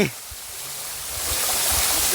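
Steady roar of a waterfall outdoors, a broad constant rush that swells slightly louder partway through and carries on without pause.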